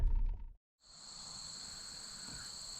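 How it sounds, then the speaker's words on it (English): Cicadas and locusts droning at dusk beside a roadside fishing spot under trees, a steady high-pitched buzzing chorus that rises after a brief gap and holds continuously. "I apologize for the cicadas and the locusts."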